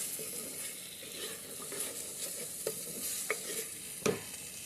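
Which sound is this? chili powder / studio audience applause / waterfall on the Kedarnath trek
chili powder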